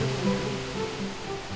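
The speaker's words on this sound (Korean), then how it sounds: "용수폭포의 시원한 물소리가 무더위도 잊게 해줍니다." Yongsu Waterfall behind Dogapsa temple, a series of three cascades, gives a continuous dense roar of rushing water, steady and fairly loud with nothing else over it.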